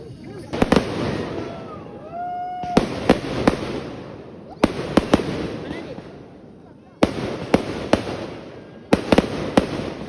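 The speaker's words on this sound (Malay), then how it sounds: "Bunga api" Fireworks pop and crackle in sharp clustered bursts at a campsite at Bertam Natural Hut, Tanjung Malim, the bursts repeating every couple of seconds over a background of voices and faint whistling.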